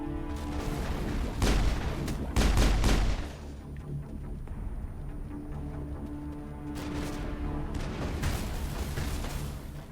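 Heavy gunfire in the Mass Effect combat game, loud overlapping bursts and booming shots that crest in two dense volleys, then ease into a rumbling, crackling firefight that swells again toward the end.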